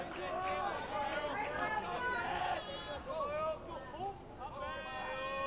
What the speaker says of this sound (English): You can hear the crowd already here in Yankton.